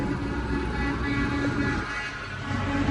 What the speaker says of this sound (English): So we got the chopper in the sky